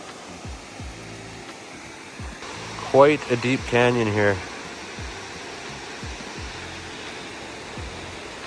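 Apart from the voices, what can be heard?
Lower Naramata Falls waterfall rushing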